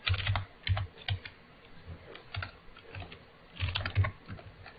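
Keys clatter on a computer keyboard as a command is typed on a Windows machine, in two quick bursts of close, crisp keystrokes separated by a pause, with no talking.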